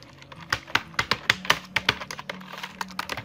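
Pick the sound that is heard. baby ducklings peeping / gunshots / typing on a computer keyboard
typing on a computer keyboard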